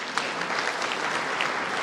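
Audience applause at a medical conference session, a brief steady patter of many hands clapping together at a moderate distance, with a few sharper individual claps standing out.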